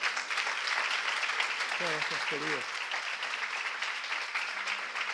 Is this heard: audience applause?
yes